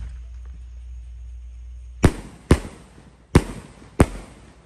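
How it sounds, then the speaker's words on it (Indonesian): A four-shot Basoka Roman Candle firework at night fires four sharp, loud pops in quick succession over a low rumbling background, with no voices. "Berhasil menyala. Basoka Roman Candle isi 4, kan?"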